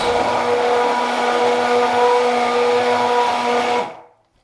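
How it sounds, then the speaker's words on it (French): An immersion blender whirs steadily as it purées raspberry coulis, a loud, sustained motor drone with no speech, running continuously before cutting off abruptly near the end. "On vient mixer le tout grâce à un mixeur plongeant pendant quelques minutes."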